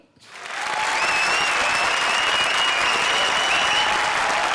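A studio audience at a comedy show bursts into applause, rising quickly within the first half second into a dense, sustained roar of clapping that stays loud and even, with occasional whistles riding on top.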